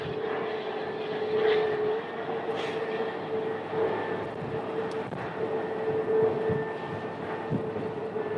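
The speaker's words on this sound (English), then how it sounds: "And that is an Airbus A321." An Airbus A321 airliner just landed at Phoenix Sky Harbor from DFW gives off a steady, moderately distant jet engine drone with a low rumble, continuous throughout and with no talking.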